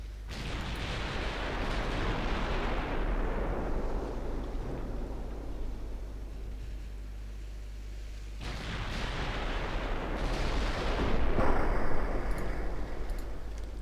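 Heavy battleship main guns firing shells in a 1964 Chinese fleet battle in the naval strategy game Ultimate Admiral Dreadnoughts, with deep rolling booms over a constant low rumble, one salvo near the start and another loud barrage about two-thirds through.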